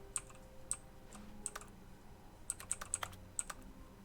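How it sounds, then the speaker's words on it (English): Keyboard keys slapped and clacked in the video game The Stanley Parable: Ultra Deluxe, a loose, uneven series of sharp clicks with short gaps, up close and alone. "Sounds like I'm slapping keys on this window"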